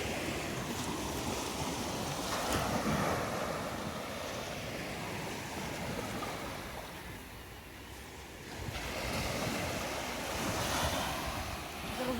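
Sea waves breaking on the shore at Whitley Bay in north-east England, a continuous rushing surf with swelling and receding surges, heavy wind buffeting the microphone throughout, no voices.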